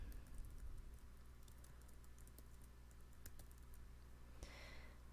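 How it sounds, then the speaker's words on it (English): Rapid, light keystrokes on a computer keyboard, a quiet continuous patter of clicks with no talking, steady for several seconds. "then just start typing away"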